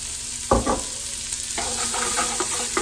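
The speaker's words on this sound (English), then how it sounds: "We're going to stir this up. Coat this onions with the bacon grease a little bit." Onions and tomato paste stirred in bacon grease for sauerkraut soup, giving a continuous hiss of frying with a loud clack near the start and then repeated scraping strokes, close and without speech.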